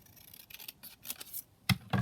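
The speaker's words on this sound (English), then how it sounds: "So we'll just cut that round" Scissors snip around a fancy paper label for a craft ephemera project, several quick, close cuts in an uneven rhythm with two louder crunching snips at the end, no voices.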